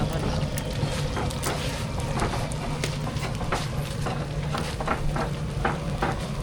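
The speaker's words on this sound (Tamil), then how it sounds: "இதை கிண்டி விட்றேன் சிக்கன் லெக் பீஸ் சேர்த்தாச்சு இப்போ நல்லா கலந்து விட்டுலாம்" A spoon stirs chicken leg pieces through gravy in a pan, a steady soft scraping and sizzling bed that runs throughout, with faint clicks over it.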